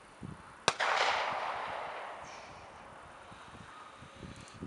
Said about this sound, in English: Gunshots, I don't think, are helping.